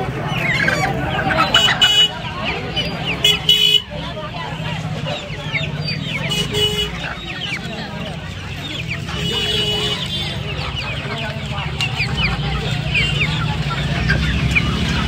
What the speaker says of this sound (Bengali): সোনালি দেশি মোরগ আর মুরগি আছে